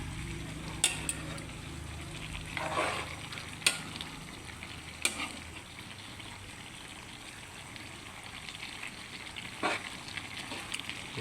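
Jackfruit stew for ginataang langka sizzling in a large wok while being stirred, a soft steady frying hiss with occasional scraping clinks of the spoon against the pan, fairly quiet and free of talk.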